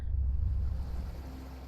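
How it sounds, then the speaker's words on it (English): Wind and water in the meditation video game Playne, a steady low rushing roar like waves and breeze, heard alone at a moderate level. "So if you want to hear the wind,"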